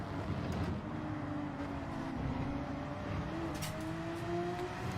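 A race car accelerating in Gran Turismo 7, its engine drone rising steadily in pitch through the gears over a constant road roar, with no one talking.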